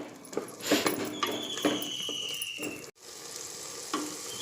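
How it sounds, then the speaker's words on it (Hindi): Tomato gravy sizzles and fries in a pan for a meat curry, with crackling bursts and occasional stirring scrapes, close and fairly quiet, with no talking. "ये टमाटर की ग्रेवी डाल रही हूँ। इसको थोड़ा देर भूनूंगी"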